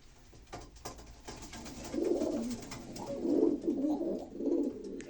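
Pigeons coo nearby in soft, rounded, repeated calls that grow steadier over a few seconds, with a light background hiss and no talking.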